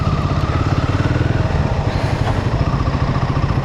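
A motorcycle rides through Delhi NCR streets in the early evening, its engine droning steadily and loudly with a rapid, even pulse for the whole stretch, close to the rider.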